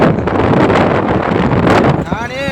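Strong wind buffets the microphone at Pamban bridge, Rameswaram, a loud continuous roar and rumble that eases near the end as a voice begins speaking.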